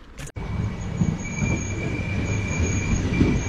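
A train in England rumbles steadily close by, with a sustained high metallic wheel squeal running over the low rolling noise after a brief thump at the start.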